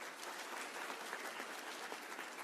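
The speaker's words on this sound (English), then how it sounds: "Let's give DeCarlos another round of applause, y'all." An audience at a closing celebration gives an award winner a round of applause, a dense, even patter of many hands clapping, soft and somewhat distant, alone without speech.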